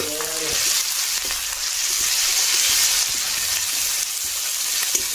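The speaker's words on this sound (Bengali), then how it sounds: "ফিশারি থেকে যে মাছ ধরেছিল সেই মাছগুলো আরেকবার ভেজে নিচ্ছি" Fish caught from a fishery sizzles steadily as it is fried a second time in a pan, a loud continuous crackle and hiss with occasional stirring scrapes and no voices.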